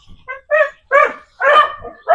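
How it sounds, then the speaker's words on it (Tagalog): A dog barks four times in quick succession on a farm, close and fairly loud, each bark short and sharp with brief gaps between. "Ang uh, aso nandito."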